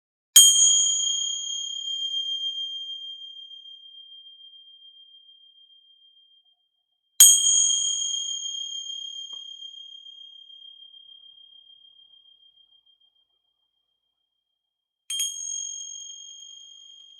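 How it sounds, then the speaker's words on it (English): Three separate strikes of a bell ring out in a quiet room, each a clear metallic ding that hangs and slowly fades over several seconds, the last one softer. "Gonna ring some bells here."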